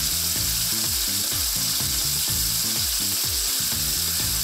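A beefsteak fries in a kitchen pan with a steady, loud, dense sizzle, and regular rhythmic knocks run beneath it the whole time.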